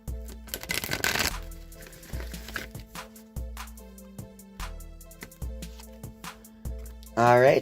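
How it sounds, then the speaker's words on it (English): A Wisdom of the Oracle card deck is shuffled in a series of short, crisp riffling bursts, repeated at a steady pace over soft background music, with a brief voice near the end. "I'm just going to shuffle the wisdom of the Oracle deck a few times"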